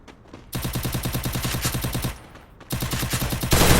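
Rapid automatic gunfire from a fight in a shooter video game, two loud sustained bursts of evenly spaced shots separated by a brief lull, with another burst starting at the end; no talking.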